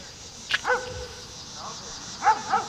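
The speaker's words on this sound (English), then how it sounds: "Apologize for my brother's dogs barking." Brother's dogs barking nearby, a sharp bark or two near the start and another pair of barks toward the end, heard over a steady background hum.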